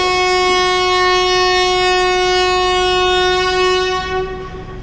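The 17230 Sabari Express departs Tiruppur station with a loud, sustained, close horn blast lasting several seconds over rolling train noise, easing off near the end.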